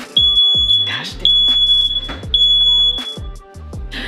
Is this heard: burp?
no